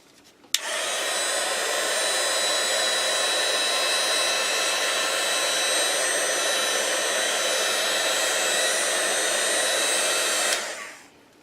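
A hair dryer blowing on freshly painted stenciled junk journal pages: a click, then a loud, steady, close whooshing roar held for about ten seconds before it switches off and fades.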